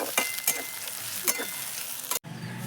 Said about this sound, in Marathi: तेल तापलेले आहे कांदा टाकून घेऊया कांदा थोडा लालसर झाला की नंतर आपण ह्याच्यात लसूण कोथिंबीर टाकूया